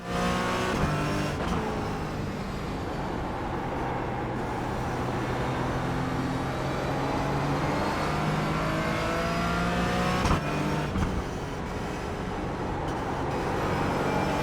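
Race car engines drone continuously in a racing video game, a loud, steady whine with shifting pitch as cars run together on track, with a couple of brief gear-change dips.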